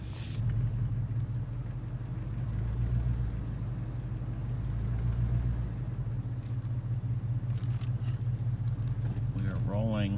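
A vehicle towing a boat trailer loaded with large wooden planks pulls away, giving a low, steady engine rumble and road noise throughout, with a voice near the end.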